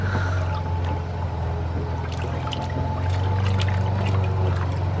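Water drains steadily from a backyard swimming pool, a continuous low rushing and trickling flow heard close by with faint splashes over it.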